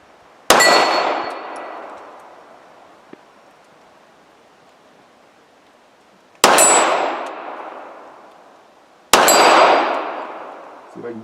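Three Glock 42 pistol shots, fitted with upgrades and an 8+1 magazine extension, strike steel targets, each sharp crack followed by a long metallic ring that fades out; the first stands alone, then two more come a few seconds apart.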